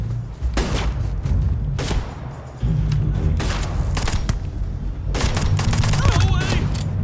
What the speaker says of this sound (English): I hear some more gunfire